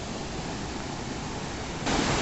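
Steady broadband rush of water flowing along a stream, not a waterfall, continuous and fairly close, swelling slightly louder near the end with no voices.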